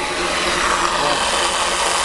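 A ball-magnet Thomas motor spins steadily, putting out a loud, continuous, noisy whir with a rough, grinding texture close to the listener.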